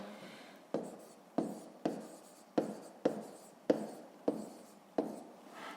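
Handwriting an answer with a pen on paper, a rhythmic series of about nine scratchy strokes, each starting sharply and trailing off, close and fairly quiet with no talking.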